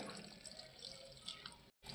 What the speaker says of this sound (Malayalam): വെള്ളം ഒഴിച്ചു കൊടുക്കുന്നുണ്ട്